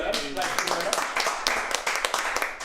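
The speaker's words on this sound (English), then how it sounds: "Let's all give Peter a big round of applause" A round of clapping at a choral Messiah singing workshop, with irregular sharp claps close by and voices talking over them.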